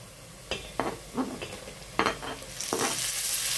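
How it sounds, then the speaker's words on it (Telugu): Tomato pieces fry in a spiced paneer biryani masala, with a low sizzle under several sharp spoon scrapes and clinks against the pot, close up and with no talking. "ఈ టమాటా ముక్కలు కూడా కొద్దిగా ఫ్రై అవ్వాలండి."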